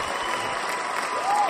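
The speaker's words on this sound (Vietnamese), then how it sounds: "giám khảo đứng dậy vỗ tay là biết nó phê như thế nào" Judges rise and applaud on a singing-impression TV show stage, a brief burst of steady clapping that swells slightly at the end, with no talk.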